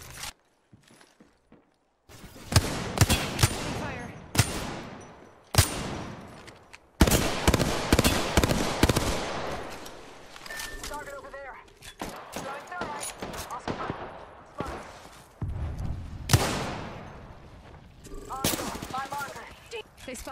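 Gunfire in the battle royale game Apex Legends, loud rapid bursts of shots broken by short pauses and reload clicks, with voices speaking in between.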